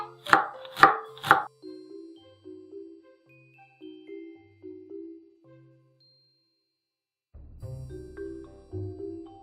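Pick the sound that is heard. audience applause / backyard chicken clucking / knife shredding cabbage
knife shredding cabbage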